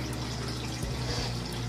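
Tap water runs steadily into a bathroom sink during face washing, a continuous close splashing rush with no pauses.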